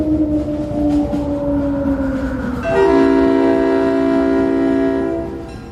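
A passenger train rolls along the rails, with steady low rumble and a long horn blast sounding from about 2.7 seconds until near the end, loud and close.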